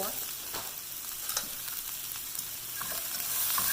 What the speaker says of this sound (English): So I want this to fry up, but not burn.